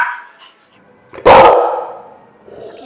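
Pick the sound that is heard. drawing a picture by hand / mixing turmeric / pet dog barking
pet dog barking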